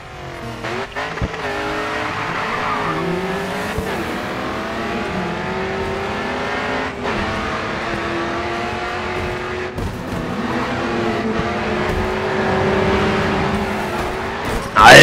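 Race car engine from Grid 2 driving continuously, steady loud revving with pitch rising and falling through gear changes, occasional tire noise, no talking.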